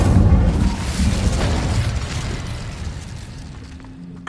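A fiery Incendio spell goes off in the Hogwarts Legacy video game, a loud booming burst that rolls into a fading rumble and crackle over several seconds.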